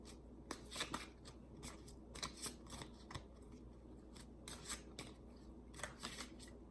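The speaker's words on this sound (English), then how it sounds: "no pro at shuffling these cards" Oracle cards are shuffled by hand in a quiet room, soft crisp riffles and slides arriving in irregular bursts close by, with no talking.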